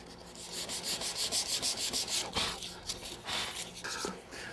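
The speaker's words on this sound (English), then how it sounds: "So I have a little more sanding to do on the top and the back" Steady back-and-forth sanding on wood, a rhythmic scratchy rasp repeating at an even pace, close up with no voices.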